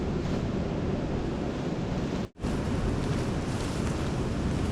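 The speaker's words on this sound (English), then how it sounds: "I can hear the beach" Surf breaks on the beach at Hervey Bay as a loud, continuous wash of waves mixed with wind buffeting the microphone, dropping out for a brief instant midway.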